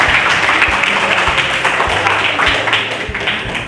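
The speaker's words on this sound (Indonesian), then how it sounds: "tepuk tangan untuk kita semuanya" Students in a classroom burst into sustained applause, a dense, loud patter of many hands clapping together for a few seconds with faint voices mixed in.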